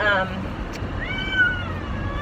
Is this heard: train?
no